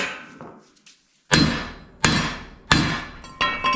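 Four loud, ringing metallic hammer blows on a truck's clamshell hood, evenly spaced about half a second apart after a brief quiet start, each with a bright clanging decay.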